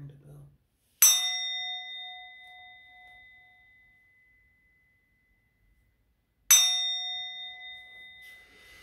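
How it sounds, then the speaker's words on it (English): A bell is struck twice, about five seconds apart, each strike a bright metallic ding with a long ringing decay in near silence. "I'm gonna ring the bell."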